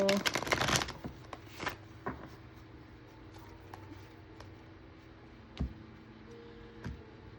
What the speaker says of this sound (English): let's go ahead and pull the card from the Mystical Dream Oracle